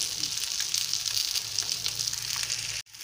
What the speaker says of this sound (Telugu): ఈ విధంగా వేయించుకుంటే చేప ముక్కలు చాలా బాగుంటాయి